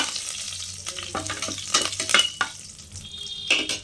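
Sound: curry leaves sizzling in oil with spluttered mustard seeds

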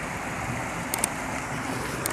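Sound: waterfall falling water

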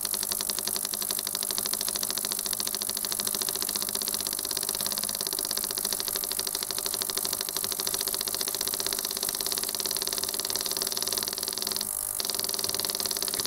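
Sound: common rail fuel pressure solenoid valve running on a generator

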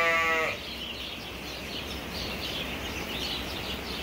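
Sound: lambs and sheep bleating on a farm

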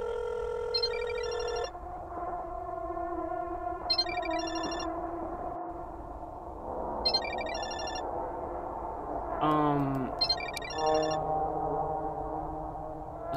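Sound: phone ringtone in the video game Parasocial

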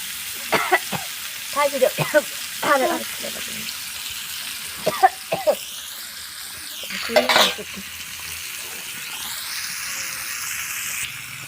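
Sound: rohu fish pieces frying in a pan

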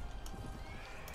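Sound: horse neighing in the video game Mount & Blade Warband

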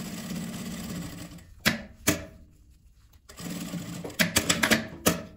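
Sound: sewing machine stitching fabric scraps

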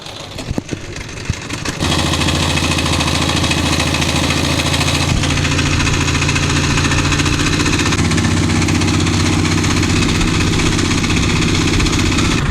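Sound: trawler boat engine running on river

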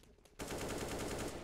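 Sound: gunfire killing a player, from the video game CS:GO

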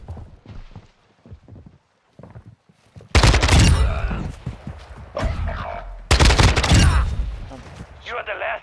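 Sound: gunfire from an enemy player in a video game Search and Destroy match

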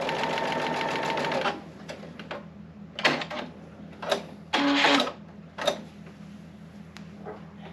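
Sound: sewing machine stitching quilt block

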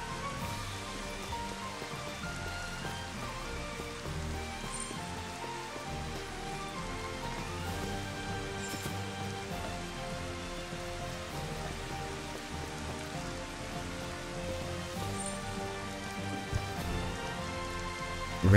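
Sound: rain in a video game

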